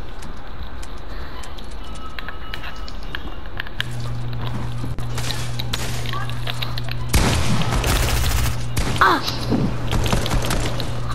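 Gunfire in the video game Fortnite: a few loud, harsh bursts break out late over a steady hum of game sound, with quiet voices talking.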